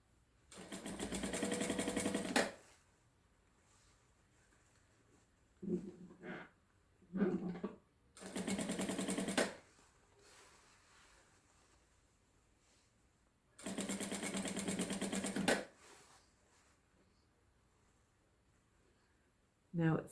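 A sewing machine stitches a child's communion dress in three separate runs of steady, fast mechanical whirring, with quieter handling noises in between.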